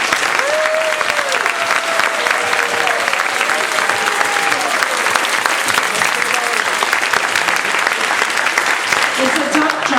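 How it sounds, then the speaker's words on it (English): A crowd at the Fall 2013 District 30 Toastmasters conference applauds loudly and continuously, dense clapping filling the room throughout, with scattered voices and calls mixed in. "would you please all stand up and let us applaud you."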